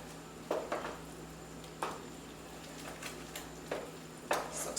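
A spoon stirs cold vegan butter into a pot of mushroom spinach risotto, giving a few soft scraping knocks against the pot at irregular intervals over a quiet background, with no talking.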